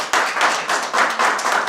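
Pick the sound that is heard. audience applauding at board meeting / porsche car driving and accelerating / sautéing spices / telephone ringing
audience applauding at board meeting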